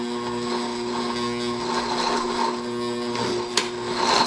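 Countertop blender grinding one cup of cashews for vegan mac and cheese, a steady whirring motor hum with whining tones throughout and a brief sharp clack near the end, close and fairly loud.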